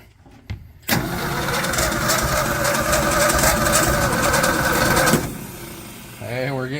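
A Ford F100 truck engine cranks and catches, running loud and rough in a steady roar for several seconds before dropping off, with a brief voice nearby at the end.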